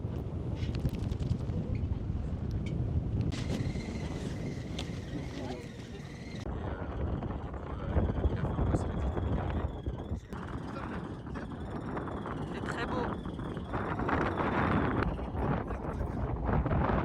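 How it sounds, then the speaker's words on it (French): Cold wind gusts across the upper deck of a tour boat in Ha Long Bay, roaring steadily into the microphone with a low engine-like rumble beneath, loud and continuous throughout. "Il y a du vent."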